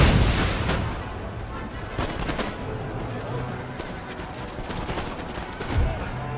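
Bursts of gunfire and booming grenade blasts from the video game Empire: Total War, with a heavy explosion near the start and another thump toward the end.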